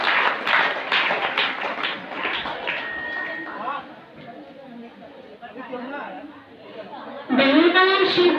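At a healing and blessings prayer meeting, a crowd claps densely and loudly at first. The clapping soon fades under crowd chatter and talking voices.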